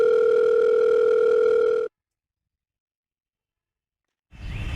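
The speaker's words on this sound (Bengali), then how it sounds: "নাম্বারটি ব্যস্ত আছে।" Telephone line tone heard as one steady, loud electronic beep lasting about two seconds, followed by silence and then a burst of broadband noise.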